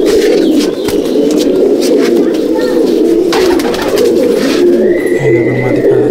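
Pigeons coo continuously inside a loft in Halisahar, a dense, loud, throaty burble filling the space, with a voice speaking over it and a brief whistle-like tone near the end.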